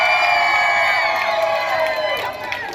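A crowd at the Alaskan pig races at The Grove in Hollywood cheers and whoops for Yukon, racing pig number 4 in red, a loud sustained roar of voices with rising shouts.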